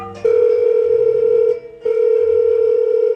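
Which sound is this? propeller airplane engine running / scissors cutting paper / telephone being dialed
telephone being dialed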